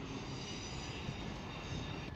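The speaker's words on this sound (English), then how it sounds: "I think my train is finally arriving." A train pulling into Manchester Piccadilly station, a steady loud rumble of wheels and engine with faint rail squeal, filling the platform continuously with no talk.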